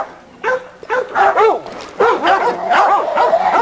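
Hounds bark and yip repeatedly in a yard kennel, loud and close, with overlapping bursts and whimpers from more than one dog and a voice faintly underneath.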